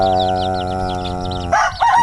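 Chickens calling up close, a sustained harmonic crow followed by short squawks and clucks, loud and clear with no talking.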